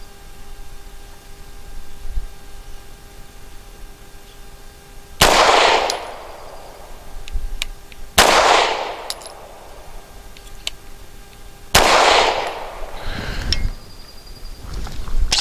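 Three loud pistol shots from a Grand Power K100D loaded with Hornady defensive ammunition, fired outdoors at a range, each a sharp crack with a ringing tail, spaced about three seconds apart with quiet between.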